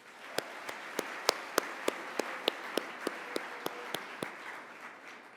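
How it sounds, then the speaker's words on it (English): At a state FFA convention general session, evenly spaced, distinct hand claps ring out in a steady rhythm over a low hall hum, fairly faint and sparse rather than a full roaring ovation. "Let's give them a big round of applause."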